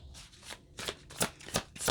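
A new, slippery tarot deck is riffled and shuffled close up, five or six quick crisp bursts of card flutter in an uneven rhythm, separated by brief quiet gaps.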